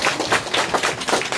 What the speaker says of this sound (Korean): 이수근 아유님 나오실 때 큰 박수로 맞아주시기 바랍니다.